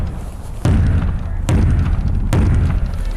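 All-steel race car trailer being struck by hand, three heavy booming hits spaced about a second apart over a steady loud background rumble.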